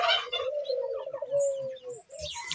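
A domestic fowl calls up close, first a drawn-out warbling note, then shorter chirping calls, in a fairly quiet setting.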